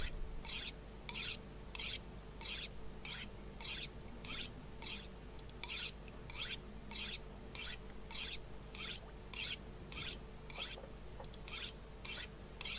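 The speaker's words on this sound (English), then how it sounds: "So we're just sharpening our knife." A knife is sharpened on a whetstone in the survival game The Long Dark. Steady, evenly spaced rasping strokes, about two per second, carry on without pause and with no talking.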